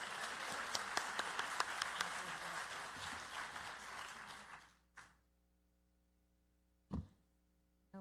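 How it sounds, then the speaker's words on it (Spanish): Conference audience applause for a speaker at a relational networks talk, a full round of clapping that fades out after about five seconds, followed by a couple of isolated thumps and quiet hum. "Pido un aplauso para la doctora Ana Paula Relvas."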